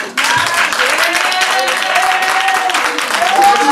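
A church congregation breaks into sustained applause and cheering that fills the room from start to finish, with voices calling out over the clapping.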